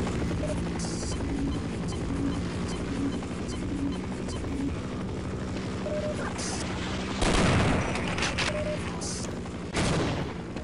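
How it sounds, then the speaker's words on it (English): A helicopter in the Half-Life mod TWHL Tower whirs steadily under bursts of gunfire and game effects, with two louder blasts near the end. "Helicopter just killed one of those warts."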